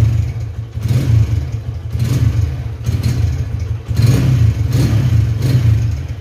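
A Honda CB150R motorcycle engine revs up and down close by, surging in several loud bursts over a clattering idle with brief dips between throttle blips.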